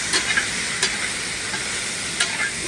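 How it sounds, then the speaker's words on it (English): Jambalaya being stirred in a pot, a steady scraping swish with soft sizzling underneath and a few sharper spoon knocks, close and moderately loud with no talk. "We'll start to get a little stir."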